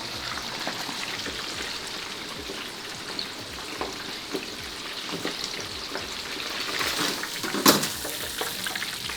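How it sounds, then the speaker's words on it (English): Food deep frying in a deep fryer, a dense steady sizzle and bubbling crackle that carries on evenly, with a few sharper pops and a brief louder spatter near the end, and no talking. "I give it 15 seconds in the deep fryer"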